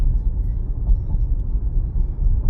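A V8 Camaro engine rumbles low and steady from inside the cabin while driving, a muffled continuous drone with slight fluctuations and no distinct revving.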